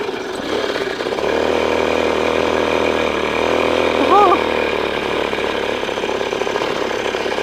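The engine of a homemade agricultural sprayer vehicle runs at a steady idle after being started by hand, a close, constant buzzing drone with a brief rise partway through.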